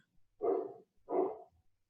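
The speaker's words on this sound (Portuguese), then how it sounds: "Vocês ouvem o cachorrinho que está latindo aqui no vizinho?" A small dog barks twice next door, two separate short yaps about half a second apart, fairly faint and distant against an otherwise quiet room.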